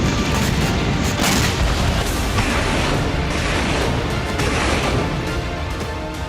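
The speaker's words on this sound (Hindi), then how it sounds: "रूसी सेना ने यूक्रेन के सूमी शहर पर बीते 24 घंटे में 250 बम हमले किए हैं।" Bomb attacks on Sumy city, Ukraine, come through as loud, dense booms and rumbling blasts in quick succession, with a sustained roar beneath them and no talk.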